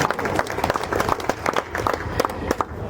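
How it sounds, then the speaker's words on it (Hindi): A crowd claps at a live poetry or comedy stage event, a steady patter of hands with sharp individual claps standing out and some crowd noise underneath. "ताली आप लोग फिर बजा दो"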